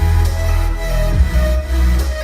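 Layered electronic kick drum and deep bass with heavy compression in a big-room dance production, playing loud and dense with a sustained low-end pulse throughout, no voices.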